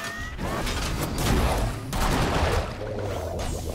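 A scatter shot gunfire attack in the Battle Chasers: Nightwar video game, a dense, steady burst of loud overlapping blasts and rattling impacts lasting a few seconds, with no talk over it.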